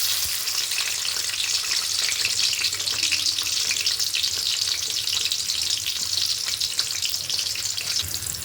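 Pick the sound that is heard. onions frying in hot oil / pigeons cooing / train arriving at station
onions frying in hot oil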